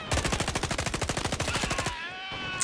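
Rapid automatic gunfire in the shooter game Caliber fires a fast burst of roughly two dozen sharp, evenly spaced shots, loud and close, then cuts off into a brief ringing tail.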